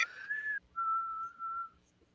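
Someone whistles a few clear, sustained notes, one short rising tone followed by a longer held note, close and isolated in a quiet space.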